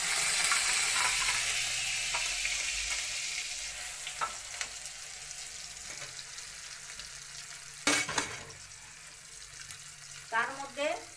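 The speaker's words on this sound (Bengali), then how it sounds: "তেলটা ভালো করে গরম হয়ে গেছে গিয়া এবার সরষে বাটা দিয়ে দিলাম" Mustard paste going into well-heated oil for a Bengali mustard-based dish, giving a steady broad sizzle with a few brief clatters and sharper spits toward the end; no one speaks.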